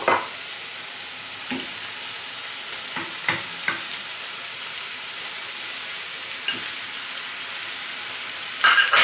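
Pork neck meat frying with glazed onion in a pan, a steady broadband sizzle with occasional sharp clinks and stirring knocks of a utensil, close and even throughout.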